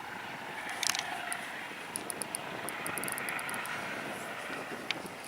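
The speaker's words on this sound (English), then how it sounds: "as that helicopter, you couldn't hear anything" A helicopter passes overhead at a fishing lake, its engine a steady, fairly loud drone filling the scene, with a few faint clicks and ticks sitting above it.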